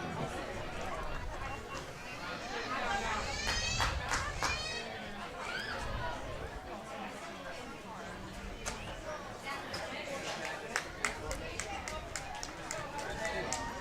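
Steady murmur of spectators at a baseball game between the River Falls Fighting Fish and the Faribault Lakers, with scattered voices and occasional shouts from a moderate crowd, under nearby speech throughout.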